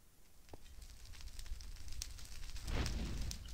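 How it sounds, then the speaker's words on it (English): Crackling fire burning in Minecraft, soft and low with scattered pops that swell into a fuller roaring burn toward the end. "I'm going to go ahead and light all this stuff on fire"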